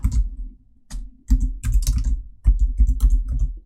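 Rapid clicking keystrokes on a computer keyboard come in two quick bursts separated by a brief pause, loud and close, with no voice over them.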